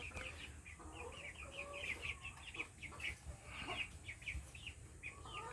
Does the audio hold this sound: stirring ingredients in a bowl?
no